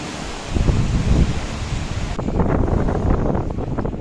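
Ocean waves wash against a beach pier on Fuerteventura, a loud, broad roar of surf mixed with gusting wind buffeting the microphone, continuous throughout with no voices.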